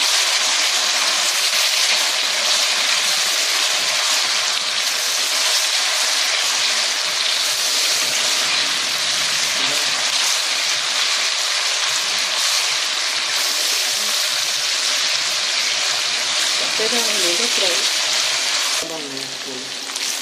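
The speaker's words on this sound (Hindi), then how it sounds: "एक मिनट इसको फ्राई करेंगे" Garlic paste and korma daal ingredients fry in a hot pan, a continuous loud sizzle with crackling spatter that holds steady throughout, ending with a brief faint clatter.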